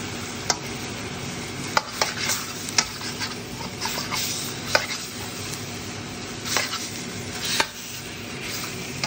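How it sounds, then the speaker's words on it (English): Pork frying in a hot pan with ginger, black pepper and salt, a continuous loud sizzle punctuated by sharp scrapes and clacks of a utensil stirring the meat. "So basically, we're cooking the outer surface of the pork."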